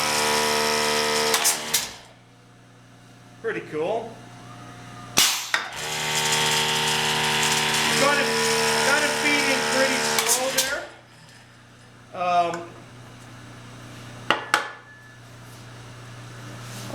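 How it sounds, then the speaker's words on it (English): A Maka mortiser, an old English machine, starts up and its motor runs with a steady mechanical hum and ratcheting clatter, broken by brief louder knocks, while someone speaks briefly. "so I'm going to turn it to forward, activate it. That's going to bring the motor on."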